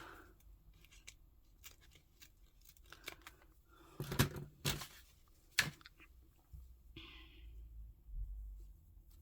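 Scissors snip paper for a lapbook journal, quiet close-up cuts that come in scattered bursts, with a few louder, sharper snips near the middle and no talk.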